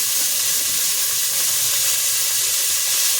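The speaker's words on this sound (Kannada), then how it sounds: "ಇಲ್ಲಿ ಬಾತ್ಗೆ ನಾವು ಒಗ್ಗರಣೆ ಹಾಕೊತಾ ಇರೋದು" Spices crackle and sizzle in hot oil during tempering for tomato bath, a steady close hiss with faint popping that continues throughout.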